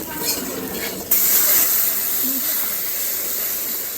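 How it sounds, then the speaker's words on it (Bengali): Cold milk is poured into a hot wok of freshly fried grated coconut: a sudden loud, steady hiss and steam rush breaks in about a second in and holds, close and full, to the end. "এখানে দুধটা দিয়ে দিচ্ছি।"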